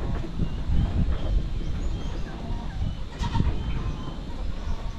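A goat herd on a small farm, with new kids and pregnant does among them. The animals bleat in a dense, continuous chorus of overlapping cries, some close and loud, with no talk.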